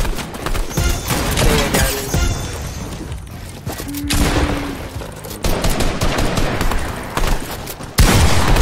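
Video game gunfire crackles in dense, repeated bursts with booming impacts, loud and close through a chaotic battle arena match, with no clear talking.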